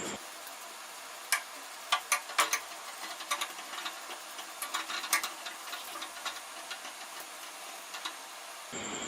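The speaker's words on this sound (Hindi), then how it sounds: "इनको हम चूल्हे पे जलाएंगे" Goat trotters held over a stove flame to burn off leftover hair, making a faint hiss with a run of irregular sharp crackles and pops that thin out over time.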